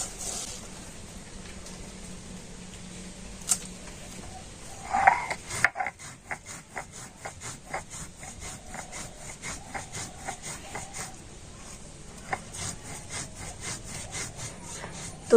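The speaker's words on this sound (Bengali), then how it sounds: "আর এখন আমি শিলনোড়াতে আতপ চালটা গুঁড়ো" Soaked raw rice being ground on a stone shil-nora slab gives a steady rasping, rubbing scrape in a fast back-and-forth rhythm, close and fairly quiet, with a few knocks partway through and no speech.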